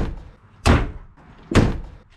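A Mazda Miata car door with its stock rubber bushing closes twice, two solid, slightly hollow thumps about a second apart, close by.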